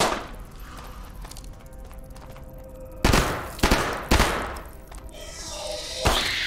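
Assault rifle fire in Hidden Deep: a few sharp, loud single shots and short bursts ring out over a low droning background, spaced a second or so apart.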